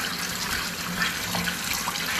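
Tap water runs steadily into a sink while sea moss is rinsed and cleaned under it, a continuous close splashing rush with no voices.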